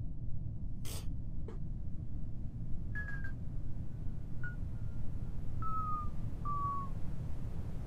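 Short whistled notes, a few brief sliding tones spaced apart over a low background hum, faint and isolated, alongside a couple of quick clicks.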